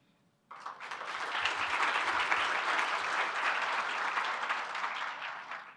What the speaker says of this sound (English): we need to give ourselves a round of applause on the work that we've done to date